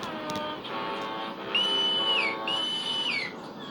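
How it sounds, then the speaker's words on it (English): A harbor master's special whistle in a cartoon harbor sounds as two long, steady, fairly faint tones, one after the other, over a low background hum. "Oh, that's a special whistle."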